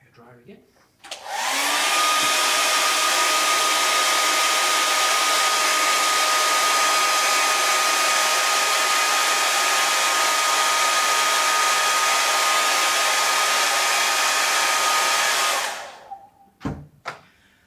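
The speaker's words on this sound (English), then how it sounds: "Hair dryer again." A hair dryer, used to dry an aquatint printmaking plate, switches on and blows steadily at full strength for about fifteen seconds, a loud even whoosh with a high whine, then cuts off.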